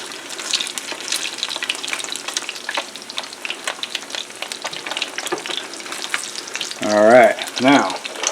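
Eggs fry in a pan with a steady crackling sizzle and scraping stirs, close and continuous throughout, with a brief burst of voice near the end.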